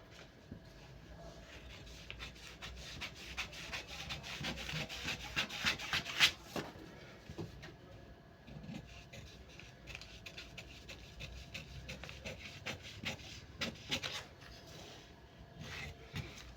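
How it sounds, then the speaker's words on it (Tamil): Scissors cut through blouse lining fabric for a size 34 deep-neck blouse, making close, quiet rasping snips and scrapes in an uneven rhythm, with one sharper crunch partway through and no talking. "லைனிங்கில் வெட்டும்போது இந்த மாதிரி தான் வெட்டணும்."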